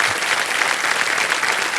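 A short burst of enthusiastic clapping from a game show studio audience, dense and loud, filling the moment without voices.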